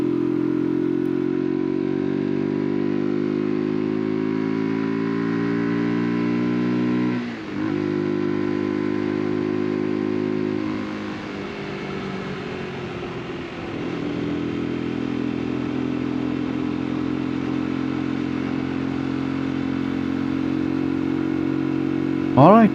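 A UM Xstreet RS 125 motorcycle engine hums steadily while riding on the road, its tone dipping and rising with gear changes, loud and close throughout.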